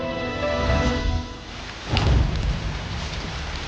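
Heavy rain pours steadily as a dense, hissing wash with a low rumble and a swell of louder downpour midway, sustained and close without clear talk.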